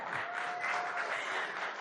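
An audience applauds to welcome actor Kichcha Sudeep at the Republic Kannada Sangama 2025 event, making soft, continuous clapping that sounds distant and fairly faint, with a faint tone running beneath it.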